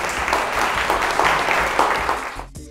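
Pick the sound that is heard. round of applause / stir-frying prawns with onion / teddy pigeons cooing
round of applause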